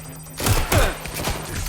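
Gunfire in the video game Watch Dogs Legion: a rapid burst of shots with sharp thumps and ricochet whines over background game sounds, close and loud.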